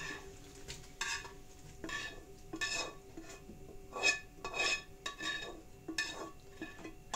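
Metal pots and pans clatter and clink in a run of irregular knocks and scrapes, close by, with utensils tapping as stewed meat with carrots and onions is moved into a pot.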